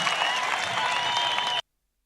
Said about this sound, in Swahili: Hebu tupigie makofi kuondoa pombe katika sehemu hii.